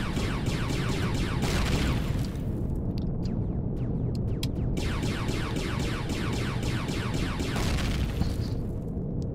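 Turret guns in the Empyrion game fire and blow up in a loud, continuous barrage of rapid blasts and booming explosions, with a dense stretch of shots before and after a brief gap of sharper cracks.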